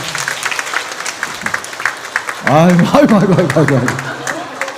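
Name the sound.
congregation applause at a church meeting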